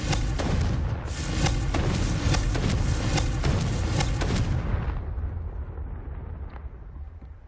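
A Confringo blasting spell goes off in the Hogwarts Legacy video game: a loud, booming explosion that keeps rumbling for about five seconds, then dies away into a quieter, lingering tail.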